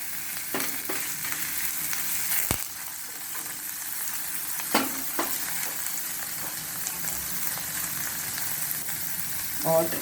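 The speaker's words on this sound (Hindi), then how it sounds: "थोड़ा सा हल्के भुन जाएगा हमारा प्याज, कच्चापन इसका चला जाएगा।" Onion sizzles steadily in a hot pan as coriander is added, a soft continuous frying hiss with a few sharp clicks and scrapes of stirring, fairly quiet throughout.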